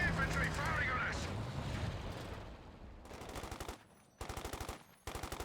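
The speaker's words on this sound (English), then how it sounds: "Enemy infantry firing on us." Enemy infantry fire in Company of Heroes 2, with dense bursts of rapid machine-gun fire cutting in and out amid a rumbling battle din, loud and close, with brief pauses between volleys.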